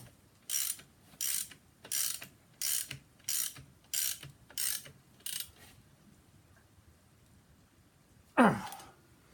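A ratchet wrench tightens the alternator mounting bolt on a 1973 Mercedes 280SE with a 4.5 engine. Eight brisk, evenly spaced clicking bursts sound close by, then a pause and one louder scrape or clunk near the end.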